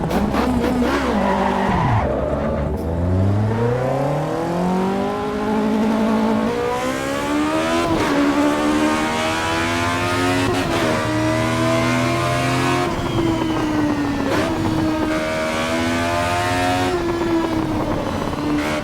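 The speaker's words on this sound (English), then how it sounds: "There's that lift-off oversteer, especially, you see there? Damn, you gotta catch it." Race car skidding with tire squeal during lift-off oversteer in the Assetto Corsa Evo racing game, with the engine revving and shifting continuously and loudly throughout, with no talk.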